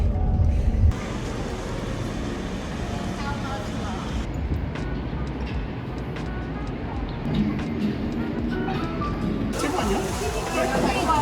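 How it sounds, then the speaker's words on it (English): A van drives along Bourbon Street in New Orleans, its steady engine and road rumble heard from inside the cabin, with shifting street noise and people talking over it. "Actually driving the van on this street"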